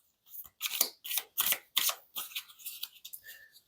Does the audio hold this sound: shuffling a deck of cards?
yes